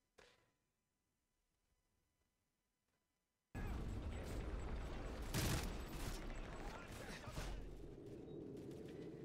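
Gunfire in Call of Duty: Modern Warfare 3 starts abruptly after near silence, a loud, dense, sustained barrage of shots with a sharp peak midway that then carries on steadily.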